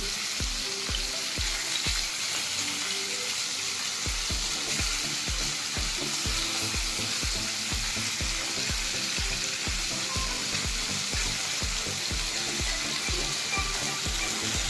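Bahal fish fries in oil with a continuous crackling sizzle heard up close, while a regular low thumping pulse runs underneath throughout.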